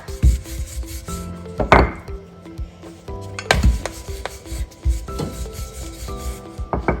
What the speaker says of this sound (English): So let's roll it to roti.